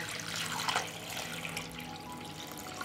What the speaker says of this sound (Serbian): I sipat ću vodu do vrha poklopca.